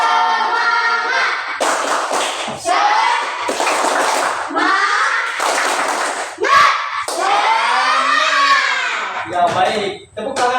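A primary school class in Indonesia performs a rhythmic spirit clap, with sharp group hand claps mixed into loud children's chanting and voices throughout.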